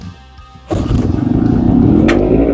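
Small gasoline engine on an auction-bought shop heater, choke on, catching on the first pull outdoors in the cold: a brief quiet lead-in, then a sudden loud start settling into a steady, rising sputtering run.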